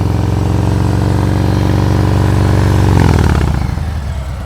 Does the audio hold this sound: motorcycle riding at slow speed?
yes